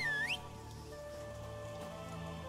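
Rain pattering steadily in The Witcher 3 on Skellige, a soft continuous hiss of falling drops under sustained musical tones, with a brief rising chirp near the start.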